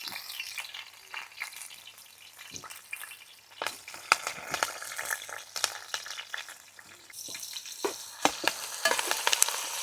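Onions, green chillies and curry leaves fry in a large pot for an Andhra fish curry, with a low background sizzle broken by sharp, irregular pops and spatters that grow busier toward the end.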